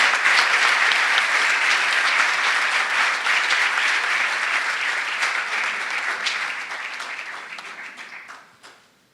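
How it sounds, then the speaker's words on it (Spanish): An audience at a book launch breaks into sustained applause that welcomes an economist to the stage, steady and dense for several seconds before fading out near the end. "Recibimos con un aplauso al economista Dajic."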